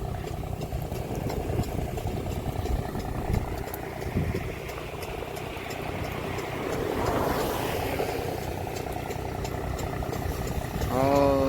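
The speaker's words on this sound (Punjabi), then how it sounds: "ਉਹ ਚੱਲਦਾ ਟਰੈਕਟਰ।" A tractor runs with a rotavator puddling a flooded field. Its engine gives a steady mid-pitched drone at moderate distance, with rough churning texture and a brief rising whine near the end.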